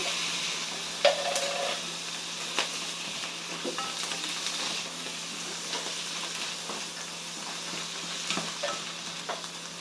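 Sliced mushrooms sizzle and fry in a pan with onion and pasta for carbonara, a steady close crackling hiss broken by occasional clicks and scrapes of stirring.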